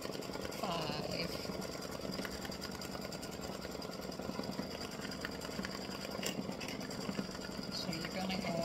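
A home embroidery machine runs a basting stitch as the first color stop of an Easter bunny butt design, a steady rapid mechanical needle chatter that hums continuously throughout at moderate loudness.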